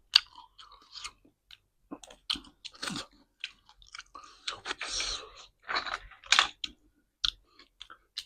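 Close-up chewing and crunching of mussel seafood miang wraps with crisp kale shoots, heard as irregular moist bites and crunches with short pauses between mouthfuls and no talking.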